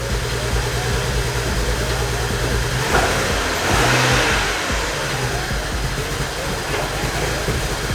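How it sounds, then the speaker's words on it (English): A BMW E90's engine idles with a misfire, a rough steady drone with an uneven pulsing beat close by and a brief lift in level midway; someone talks over it. "Still got a misfire."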